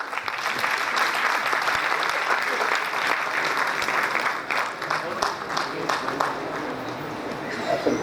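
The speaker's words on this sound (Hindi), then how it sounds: "एक बार जोरदार तालियां होनी चाहिए" Loud, sustained applause from a large audience at a business awards event as a recipient is called to the stage, dense clapping filling the space with a voice speaking over it.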